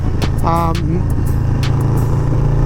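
A Harley-Davidson Low Rider FXLRS motorcycle cruises along a road with a loud, close, continuous low engine drone. A brief voice sounds over it near the start.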